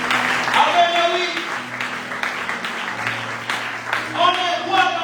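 A church congregation breaks into sustained applause and clapping that swells and fades, with voices and cheering mixed in throughout.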